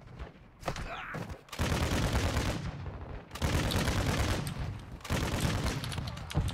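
Gunfire in Call of Duty Modern Warfare II DMZ rattles in loud, sustained bursts broken by short pauses, dense automatic shots dominating throughout.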